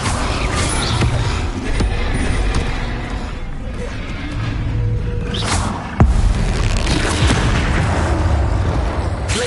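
A fiery Incendio spell cast in Hogwarts Legacy during combat: loud, continuous roaring bursts punctuated by heavy thuds and impacts, with a sharp hit near the end.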